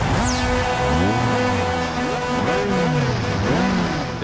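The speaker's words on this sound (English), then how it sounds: "The sound of roaring engines, the smell of burning rubber." Racing car engines roar in the video game R: Racing Evolution, with several loud, close engine notes rising and falling in overlapping sweeps as cars rev and accelerate, heard without talk.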